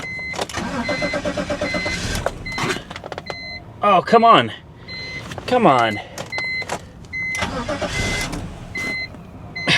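A BMW 325ci's engine cranks repeatedly without catching, long grinding bursts separated by pauses, while a person mutters in frustration between attempts.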